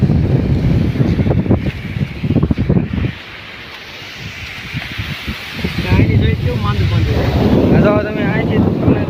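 Strong wind buffets the microphone on a sea shore where water washes over a wall, a loud, fluctuating roar with a calmer moment partway through and a voice speaking at times.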